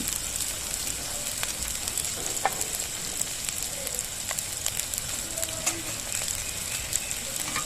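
Spice paste for a pabda fish curry fries in hot oil, a continuous dense sizzle with crackling pops and occasional spatula scrapes, close and steady throughout.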